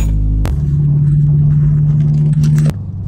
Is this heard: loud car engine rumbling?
yes